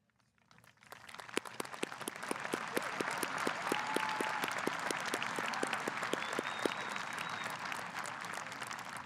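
Graduates stand to receive applause at a commencement ceremony as the crowd breaks into sharp, rhythmic clapping that swells quickly and holds steady, loud and dense.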